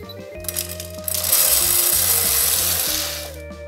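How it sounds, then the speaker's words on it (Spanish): Grain pours into the internal compartment of a WILE 200 grain moisture meter, a rushing hiss that swells for about two seconds then fades, over a steady tonal background. "retirar el seguro para que caiga todo el grano dentro del compartimento interno."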